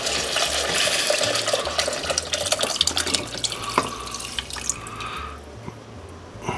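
Chicken broth, partly frozen and lumpy, poured into a pot of red lentil soup, a close steady splashing pour with glugs and plops that thins toward the end.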